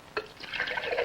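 Water goes into Snowcrop orange juice concentrate and is mixed, making a short, close liquid swish and splash after a brief initial clink.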